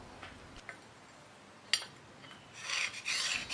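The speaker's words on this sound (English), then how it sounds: "I'll also use this little scoring gizmo to scribe a pair of lines down the edge of the knife" A small scoring tool scribing guide lines along the edge of a knife blade, a faint scratching rasp with a sharp tick partway through, then a brighter sustained scraping near the end.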